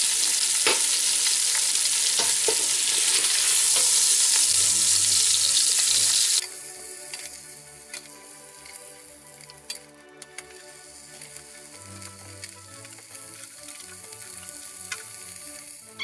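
Knacks, garlic sausage and chorizo go into a pan together. A loud hiss dies down after a few seconds into a quieter steady sizzle, with scattered clinks and scraping of stirring.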